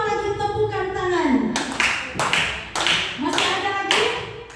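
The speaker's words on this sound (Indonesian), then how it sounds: "kita beri 5 lagi tepukan tangan" A classroom group gives several rounds of sharp, rhythmic hand clapping, loud and close, following a spoken line from a teacher.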